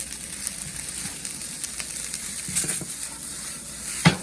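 Curry noodles being stirred in a pan for Singapore curry noodle, soft scraping and gentle sizzling with occasional clinks of a utensil against the pan, one sharper knock near the end.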